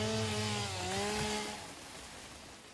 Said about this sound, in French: Quelle idée d'avoir pris une tronçonneuse en plus.